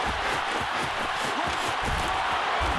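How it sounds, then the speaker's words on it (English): A large video game football crowd roars in a broad, steady wash of noise, loud and constant, with faint thuds beneath it. "That just means this crowd's going to get even louder"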